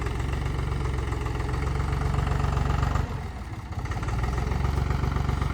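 A tractor engine idles steadily as it is brought out, a near, even low diesel chug that briefly dips and softens midway before returning to its constant throb.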